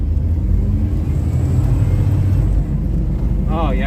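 Truck engine running on a lawn mower fuel pump, heard from inside the cab on a drive near home: a loud, steady, close rumble with a brief dip and a faint tonal whine near the end, no clear talk.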